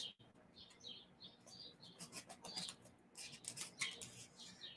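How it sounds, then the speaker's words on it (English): Faint, distant birds chirping in the background, with short high tweets scattered through a quiet room ambience. "Lovely bird chirping in the background."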